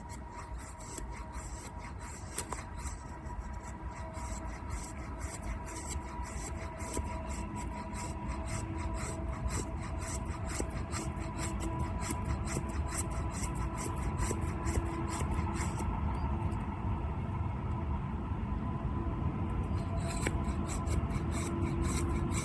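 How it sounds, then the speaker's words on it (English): A small bushcraft knife by the Czech knifemaker Pietro, with an O2 steel blade, carves fine wood shavings in close, repeated raspy scraping strokes that run continuously at an even, moderate level. "I can also create finer shavings"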